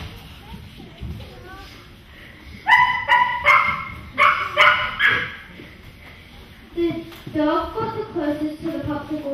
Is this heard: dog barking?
yes